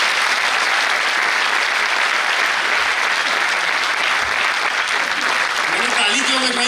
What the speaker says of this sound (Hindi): मैडम के लिए जोरदार तालियां।